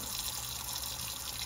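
A spray paint can held under a running hot water tap, with a steady hiss of flowing water splashing close by, continuous and fairly quiet, alone.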